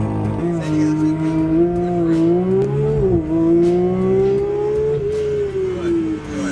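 A Porsche GT3 accelerating hard on a track, its engine tone climbing and dipping through gear changes as it pulls, loud and close, with a voice talking over it.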